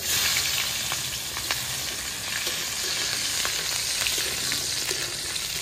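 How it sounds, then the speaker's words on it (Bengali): Garlic sizzles in hot oil with panch phoron and a dried red chilli, a steady bright crackle close up with occasional stirring clicks and no talking. "এখন তেলে দিয়ে দেবো আমি সবার আগে রসুন"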